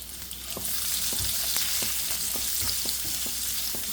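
Two medium onions, cut into large pieces, fry in an egg curry masala with salt, giving a steady, close sizzle with soft stirring scrapes throughout.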